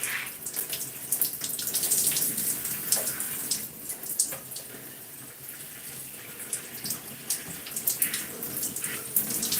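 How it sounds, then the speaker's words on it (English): Water runs steadily from a tap as hair is rinsed, a continuous close hiss and splash with small fluctuations, no talk. "Make sure you take the time to rinse your hair"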